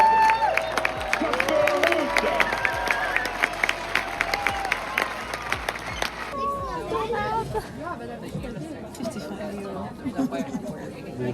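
A tennis crowd at the Rolex Monte Carlo Masters in Monaco applauds with scattered cheers for about six seconds before the clapping stops and crowd chatter and nearby voices carry on.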